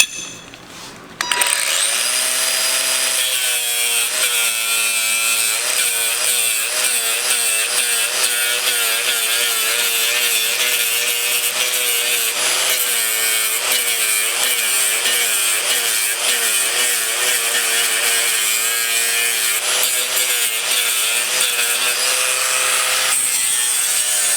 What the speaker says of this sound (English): we'll just take the grinder and grind a little bit of that weld out